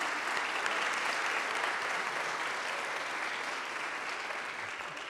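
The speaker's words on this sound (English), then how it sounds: "let's give it a round of applause." A college recital audience breaks into applause in a hall, a continuous wash of many hands clapping at moderate distance, steady throughout and slowly easing off near the end.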